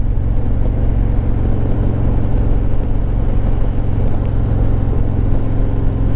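A Harley-Davidson Road Glide Limited motorcycle cruises on a December afternoon ride, its engine a loud, continuous low rumble with steady wind noise throughout.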